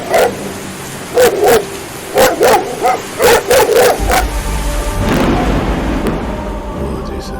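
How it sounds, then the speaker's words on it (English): A dog barks repeatedly in bursts of sharp, close barks, followed by rumbling background noise like a passing vehicle. "Why is my dog barking?"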